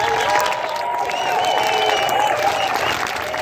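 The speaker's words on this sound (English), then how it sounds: "Give him a big round of applause." Crowd at a campaign rally for a California congressional district breaks into loud, sustained applause with cheering and whistles, steady throughout and close by, with some voices mixed in.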